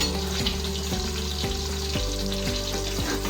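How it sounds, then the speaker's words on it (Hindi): Onions fried in hot oil for degi yakhni pulao, a loud continuous close sizzle with regular scraping stirs about every half second, no voices. "ऑयल हमारा गर्म हो गया, तो हम इसमें साथ में डालेंगे प्याज"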